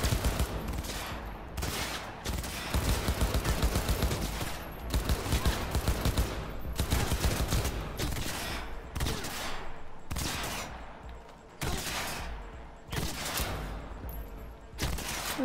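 Gunfire in Cyberpunk 2077 during a combat-training sequence: loud, close bursts of automatic fire repeat throughout, broken by short gaps.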